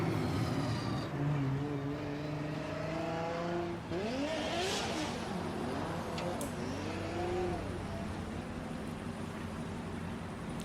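Drift cars at the FIA Intercontinental Drifting Cup in Riga, Latvia, with engines revving and rising in pitch through repeated shifts and swoops, plus brief tire squeal, loud and continuous against a steady crowd-and-track background.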